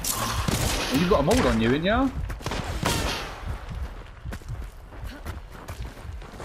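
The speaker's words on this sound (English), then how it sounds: "you're getting shot at, mate" Gunfire in the video game Hunt: Showdown, with sharp scattered shots and footsteps under excited talking from players.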